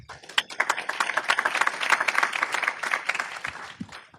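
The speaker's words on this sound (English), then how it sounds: "Let's give Kevin a round of applause." A conference audience applauds Kevin Rabinovich, Global Vice President for Sustainability at Mars, with a burst of many hands clapping. It swells quickly, holds thick and loud, then tapers off near the end.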